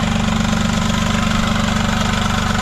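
A 2009 VW Polo 1.4 TDI BlueMotion three-cylinder diesel idles steadily after an oil service, its even, rhythmic low chug close and continuous with no voices.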